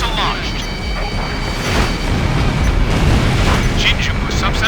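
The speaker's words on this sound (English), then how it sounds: "Missile launched." A missile launches and detonates in the Ace Combat Infinity flight combat game, a loud rushing roar swelling into a rumbling blast over continuous jet engine noise, with radio chatter.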